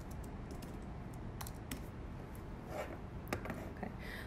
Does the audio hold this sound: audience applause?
no